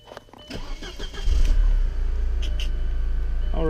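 Volkswagen Passat engine starting, a brief cranking that catches into a steady, close, low idle rumble.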